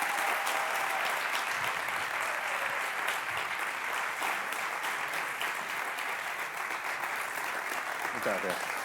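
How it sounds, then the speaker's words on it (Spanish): An audience at a 3D and animation conference claps steadily to welcome the creative director of an animation studio, dense and sustained applause filling the room for about nine seconds with faint voices underneath. "Un fuerte aplauso, por favor."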